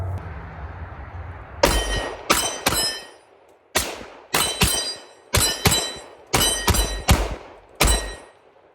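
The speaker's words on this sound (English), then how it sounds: "let's load this back up, get a different view for you, and keep running some rounds." Rapid shots from a Laugo Alien pistol, about a dozen loud, sharp reports in quick pairs and strings with brief pauses between them, each ringing out with a metallic clang at an outdoor range, without any speech.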